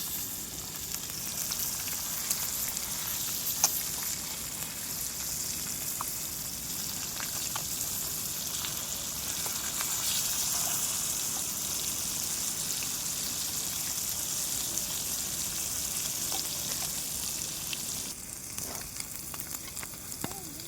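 Fish pieces deep-fry in oil for a traditional village-style fish fry, a soft, even bubbling hiss that continues unbroken at low level.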